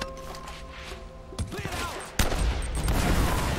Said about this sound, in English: This gun's fun